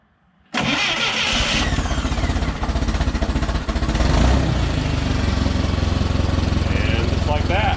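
A propane-powered shop machine cranks and catches after sudden silence, then settles into a loud, steady, rapidly pulsing engine run close by.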